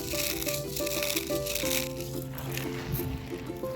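Small pebbles crunch and rattle as a child handles them at a playground, close, continuous gritty crackling with a faint musical tone in the background.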